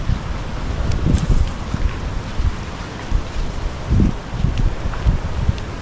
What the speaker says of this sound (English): Did you hear the sound of the wind?